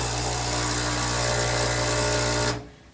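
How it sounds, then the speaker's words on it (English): Breville 800ESXL espresso machine's water pump runs with a loud, steady droning buzz that holds evenly for about two and a half seconds, then cuts off abruptly into quiet. "that just means that the pump is working"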